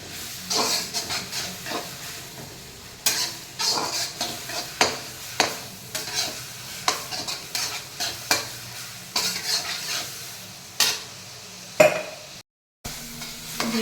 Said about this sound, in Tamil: வெங்காயம் தக்காளி ரெண்டுமே வதங்கணும்.